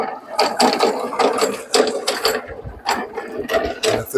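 An old hand-cranked corn sheller being turned: a steady series of ratcheting, gear-driven clacks with rattling as shelled corn kernels drop out of the bottom, close and fairly loud with no talking.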